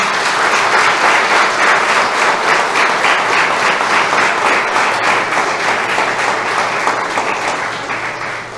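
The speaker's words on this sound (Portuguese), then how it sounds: "Uma salva de palmas para as crianças aí" Sustained applause at a solemn award session, honouring a group of children from a capoeira project; dense, steady clapping from a large crowd lasting the whole stretch and tapering slightly at the end.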